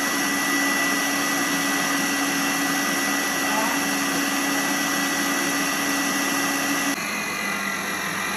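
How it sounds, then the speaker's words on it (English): An electric mixer blending cake batter for cookies and cream cake runs as a steady, loud whirring drone close by, then its pitch shifts near the end as it winds down. "So I'll open the mixer because of the ingredients I want to add into it."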